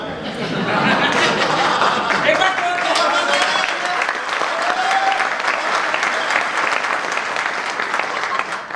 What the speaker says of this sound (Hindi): क्या तालियां वो आगे पीछे होने के बाद ही बजाते हो क्या?